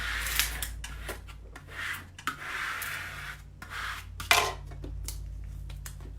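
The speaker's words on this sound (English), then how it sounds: "Just taking my extra large Cricut scraper. Just gonna get that on there good." An extra-large Cricut scraper rubbed firmly over a vinyl stencil on a painted ice cream sign, giving a run of short scraping and rubbing strokes close up, with small knocks between passes.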